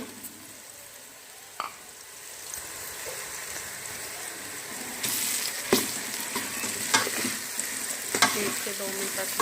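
Garlic ginger paste sizzles and fries with browning onions in a kadai for mutton kadai, with steady crackling, occasional stirring scrapes and clinks, and a rising, busier sizzle midway.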